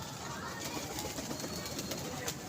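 Pigeons cooing softly at a pigeon club, a steady low burble with broad outdoor hiss and faint rustling around it.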